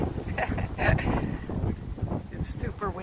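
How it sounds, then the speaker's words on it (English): Strong outdoor wind buffets a microphone in rough, uneven gusts, heavy and close, with a dog-play setting and brief human voice mixed into the rumble. "It's super windy"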